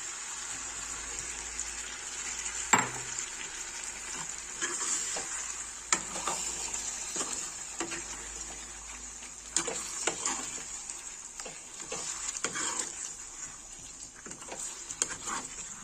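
Chicken frying in a pan with an added paste, a soft steady sizzle under repeated scraping and clinking stirs from a spoon, fairly quiet and close, no voices.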